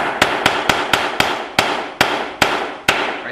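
A hammer drives small metal wedges into the corners of a wooden picture frame, about ten sharp, close taps, quick at first and then slowing, with nothing else heard.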